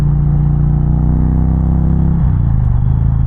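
An Indian Challenger motorcycle's exhaust drones loud and close while riding on a highway, a deep steady engine rumble that dips in pitch partway through as the revs ease.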